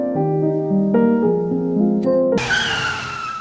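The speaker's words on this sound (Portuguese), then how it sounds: "O carro bateu em uma árvore que me jogou para fora." A car skids with a loud, wavering tire squeal that shifts pitch in steps, then ends in a sudden noisy crash into a tree, followed by a fading rattling burst.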